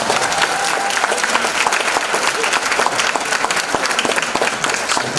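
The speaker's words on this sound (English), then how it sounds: "Give him one round of applause," Loud, dense clapping and some cheering fill a high school graduation ceremony for a class of 2018 graduate, sustained steadily throughout with no pause.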